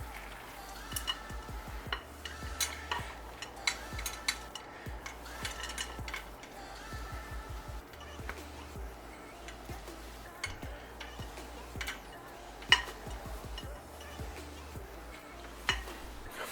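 A spoon scraping and tapping against a bowl while chocolate chips are folded into thick chocolate peanut butter bar batter, soft irregular clinks and stirring sounds close by, without speech.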